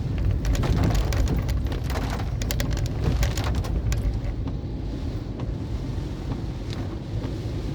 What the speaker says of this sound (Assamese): বতৰ দেখিছেনে কেনেকৈ একদম পূৰা বৰষুণ